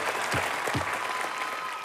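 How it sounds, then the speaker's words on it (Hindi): Studio audience applause on a televised comedy show, a brief, dense burst of clapping that stays steady and fairly loud throughout. "जोरदार तालियां बनती हैं।"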